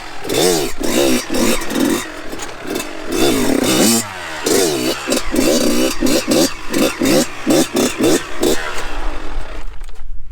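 A Kawasaki KX112 dirt bike engine revving hard and close, loud buzzing two-stroke revs rising and falling in repeated throttle blips with short drops between them.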